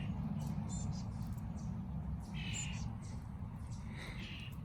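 Starlings giving faint, scattered high chirps and short squeaky calls in a garden, heard at a distance over a steady low background rumble.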